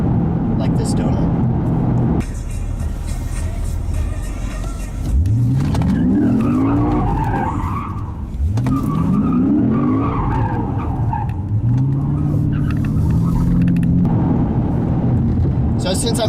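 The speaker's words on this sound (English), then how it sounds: "burn the tires for days and days and do donuts, like this donut." A 2017–2018 Lexus RC F doing donuts with traction control off produces long, rising tire squeals in repeated sweeps over a loud, revving engine, while someone talks over the noise throughout.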